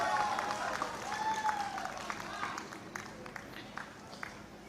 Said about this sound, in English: Shall we all give a bigger round of applause for these beautiful, wonderful kids?